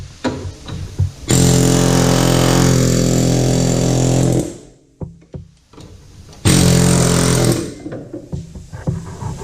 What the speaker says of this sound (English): You don't have to have an air hammer, but it helps.